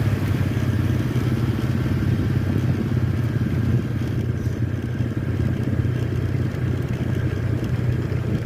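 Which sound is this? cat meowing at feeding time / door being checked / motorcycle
motorcycle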